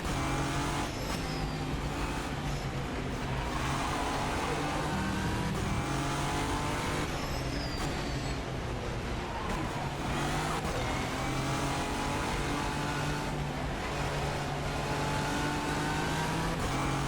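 Nissan Nismo race car engine in a sim racing game at Estoril, loud and continuous, revving up and down through gear changes with occasional tire squeal, no talking.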